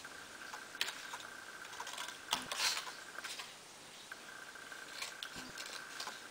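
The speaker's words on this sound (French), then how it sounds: "Je vais découper le papier" Scissors snip through thick Canson-style paper in a few crisp, scratchy cuts separated by short pauses, close and fairly quiet.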